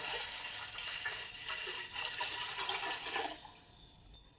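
Water streams from a vessel into a pot set on a gas stove, a steady gushing pour lasting about three seconds before it stops, with no voices.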